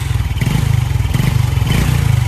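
A warm motorcycle engine fitted with a racing CDI idles loudly and roughly up close, its low rhythmic pulse surging a few times as the throttle is blipped.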